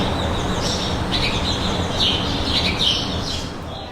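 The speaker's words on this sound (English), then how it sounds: "I've got a lot of bird friends here, really close to me." Several small birds chirp and tweet close by in a loud, busy cluster of bright, repeated calls over a steady background hiss, fading slightly toward the end.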